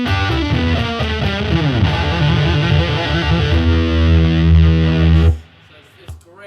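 Electric guitar played through a boost into an overdrive, giving a noisy, loose, distorted tone with dense sustained chords that ring out loudly before cutting off abruptly near the end.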